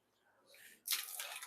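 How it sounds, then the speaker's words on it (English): Water spills and splashes onto a chainsaw's sprocket cover in a workshop, a soft trickle followed by a sudden brighter splatter that carries on briefly, close and fairly quiet. "I just spilled my water."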